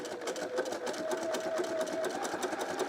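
A sewing machine stitches a buttonhole at home, its steady motor whir and rapid needle chatter running continuously and close for the whole stretch.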